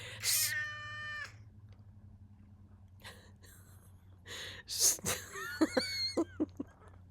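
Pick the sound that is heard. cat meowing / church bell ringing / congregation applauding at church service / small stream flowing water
cat meowing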